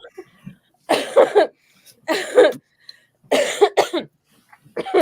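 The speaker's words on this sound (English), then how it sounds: "And we're just coughing away over here." Several harsh coughs come in close bursts, each a short cluster of rough chesty hacks separated by brief silences, loud and near with no other sound around them.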